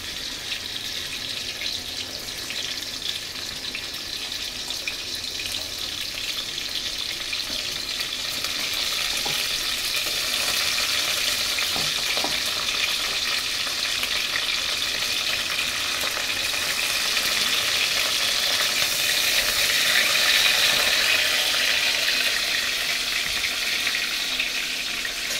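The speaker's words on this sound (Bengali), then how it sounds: "আমি দিয়ে দিয়েছি কড়াইতে তেল, একটু উচ্ছে ভেজে নেব অল্প করে" Bitter gourd frying in oil in a kadai gives a steady, close sizzle that runs throughout, with faint stirring clatter and a slight swell toward the end, and no talking.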